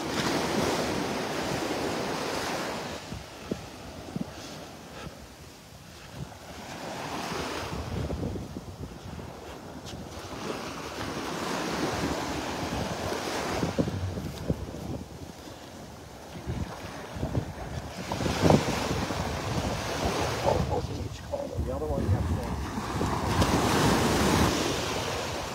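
Small waves break on the shore at Delnor-Wiggins Pass State Park beach, washing in and out in gentle repeating surges under steady wind noise, with no talking.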